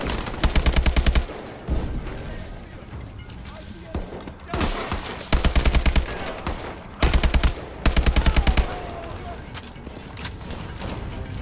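AK rifle fire in Call of Duty Advanced Warfare, mission Armada: several loud, close bursts of rapid automatic shots separated by short pauses, with game ambience and a voice talking between them.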